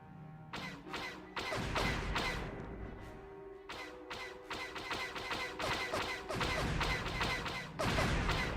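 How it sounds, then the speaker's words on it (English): Loud bursts of video game gunfire from Knights of the Old Republic crackle in rapid volleys, cutting in and out over several seconds with brief pauses between them. "I just hear gunshots."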